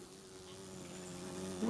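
A June bug buzzes close by with a steady, droning hum on a hiking loop around East Head Reservoir, swelling slightly louder as it nears.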